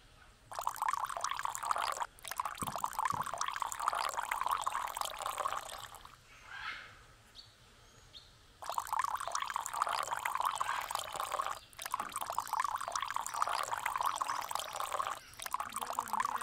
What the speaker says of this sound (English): Pour some hot water in and we got some coffee.